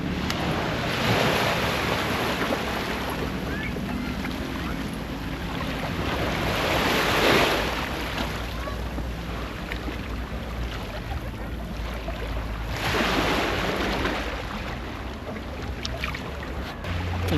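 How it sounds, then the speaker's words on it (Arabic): Sea waves wash onto the shore in broad surges that rise and fall roughly every six seconds, with steady wind noise and surf hiss filling the gaps, recorded outdoors on a coastal hike. "البحر حنا وصلنا له"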